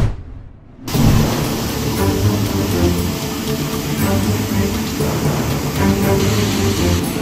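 Heavy rain in Coimbatore district pours down in a loud, dense, steady roar, with low rumbles of thunder rolling beneath it, and no voices throughout.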